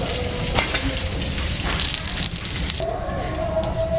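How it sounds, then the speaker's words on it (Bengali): Cauliflower fries in a little oil in a wok, giving a loud, continuous sizzle with faint stirring scrapes throughout. "একটা কড়াই বসিয়ে দিলাম ফুলকপিগুলো ভেজে নিব সামান্য করে একটু তেল দিয়ে দিব"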